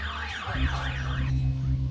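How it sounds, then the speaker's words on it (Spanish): Several house alarms blare together as a neighborhood protest, their wailing, warbling tones overlapping loudly and continuously alongside a steady lower electronic drone. "todos encendieron las alarmas de sus casas en señal de rechazo ante la decisión del juzgado de garantía"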